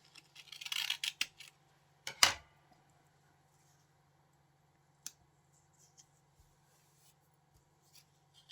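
Scissors cut paper for a collage in a quick cluster of crisp snips, then one sharper cut; after that come a few faint, scattered ticks and rustles in a quiet room.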